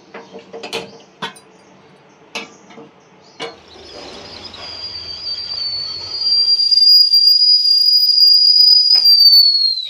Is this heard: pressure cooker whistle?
yes